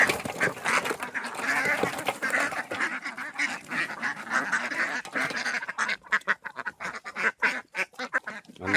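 Ducks that people are out to catch quack and honk in a noisy cluster, calls overlapping at first and then breaking into sharper, separate bursts near the end.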